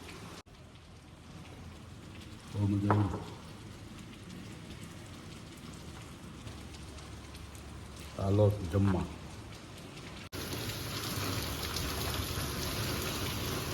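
Rain falls steadily at Saputara hill station as a soft, continuous hiss that swells noticeably heavier near the end, with brief bursts of people talking over it.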